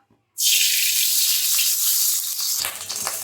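Ghee sizzles loudly in a hot kadai while cooking chicken biryani, a steady bright hiss that starts abruptly and carries on unbroken, with some stirring or clattering near the end.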